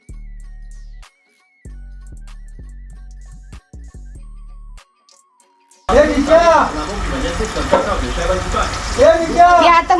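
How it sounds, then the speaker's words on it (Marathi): Green masala paste dropped into hot oil for an Aagri/Koli style fish curry, bursting into a loud, steady crackling sizzle that follows a short stretch of music and continues to the end. "आता तेल तापलंय तर आई आता ह्याच्यात हिरवं वाटण घालते"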